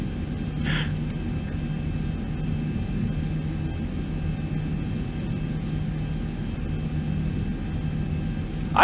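Boeing 737-800 jet engines in the X-Plane 11 flight simulator give a steady, even cabin-level roar, with a brief breathy burst near the start and no speech over it.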